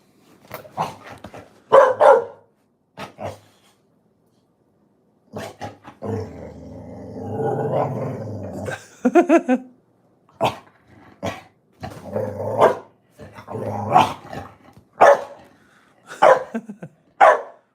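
Part-husky dog barking loudly in short bursts, close by, with a longer growly, snorting stretch in the middle; the barks come in repeated clusters with pauses between them.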